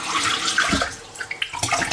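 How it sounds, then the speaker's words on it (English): Water sloshing and splashing as rice is stirred and rinsed in an ordinary cooking pot, a steady close wet swirl with a few sharper splashes toward the end, no talk. "Put some water in that rice pot and stir it and wash it. And rinse it."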